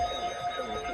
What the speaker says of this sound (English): The preceding signal was a test of the new weather radio warning alarm.